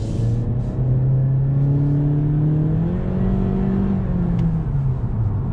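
A 2020 Honda Accord pulling away: a smooth engine hum rises in pitch as the car accelerates through the gears, steady and close, with no talk.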